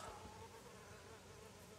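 A wasp buzzing near someone working on a handmade summer card, a faint steady insect drone lasting under two seconds against a quiet, hissy background with no voices.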